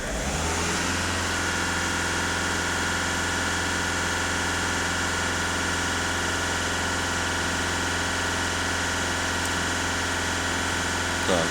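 A Skoda Octavia 1.6 TDI diesel engine is held at raised revs of about 2,500 rpm, a steady, loud mechanical drone close by that stays even throughout.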